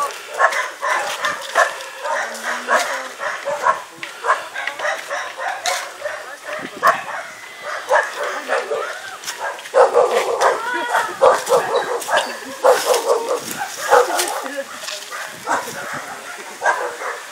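Several dogs bark and yip almost nonstop at moderate distance outdoors, with people talking throughout.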